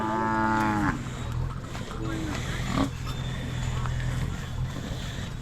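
Cattle at a hill-temple village fair at Talakayala Betta let out a loud, close moo at the start, followed by a murmur of fair noise and faint lowing.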